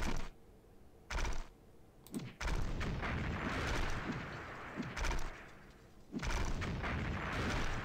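Gunfire in the video game Battle Seven Kingdoms: repeated bursts of shots and booms come in several clusters with short gaps between them, moderately loud, with no talk.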